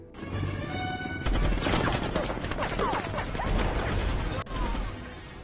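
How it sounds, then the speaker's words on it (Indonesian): Bursts of rapid gunfire from an attacking helicopter crackle through a loud, chaotic film battle scene, with heavy impacts and a sharp break near the end. "Dalam insiden tersebut rekan Swagger harus tewas akibat terkena tembakan oleh helikopter."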